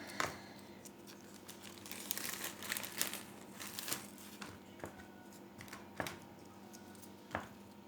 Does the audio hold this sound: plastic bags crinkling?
yes